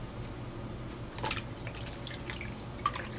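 Water trickling and dripping while soap is rinsed off a silicone baby doll, faint splashes and scattered close drips over a quiet background.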